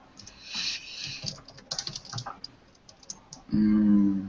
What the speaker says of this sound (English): Let me type for you.